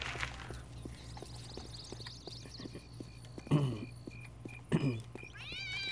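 A cat in the video game Postal 2 lets out two short meows, spaced apart over a quiet background with faint steady clopping footsteps.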